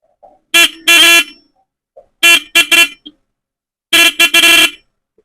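A boosted 12-volt motorcycle horn honks loudly up close in three clusters of quick blasts, some doubled or tripled, separated by silent gaps.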